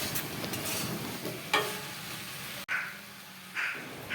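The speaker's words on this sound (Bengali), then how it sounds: "এই সবজিগুলোর মধ্যে দিয়ে আরও বেশি সময় একটু কিছু সময় সয়াবিনটাকে নেড়ে নিতে হবে এই সবজিগুলোর মধ্যে" Soya chunks and vegetables stirred in a frying pan, with a steady hiss of frying and a few scraping stir strokes over a continuous sizzle.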